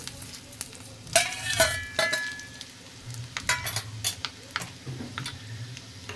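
Fenugreek seeds, whole coriander, dried red chilli and garlic fry in ghee with a soft, steady sizzle, broken by a burst of crackling and scattered spoon taps and stirring scrapes, all close and without speech.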